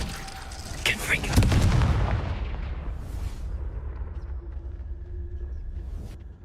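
A deep booming blast from a Confringo explosive spell in the Hogwarts Legacy video game, with a sharp crack followed by a long rumbling decay that fades under a steady background drone, loud and close.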